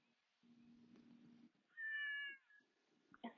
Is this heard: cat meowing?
yes